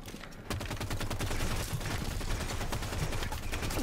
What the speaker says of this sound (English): The Promethean grenade scatters out, and it basically creates a very, very dangerous field.